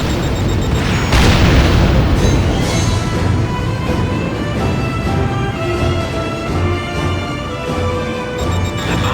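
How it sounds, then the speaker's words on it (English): Missiles launch and detonate in Ace Combat: Joint Assault, a loud rumbling boom swelling after a second and rolling on under a constant roar of jet engines, with scattered lighter bursts. "Firing missiles on target."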